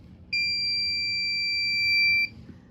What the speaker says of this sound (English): So when the buzzer goes off,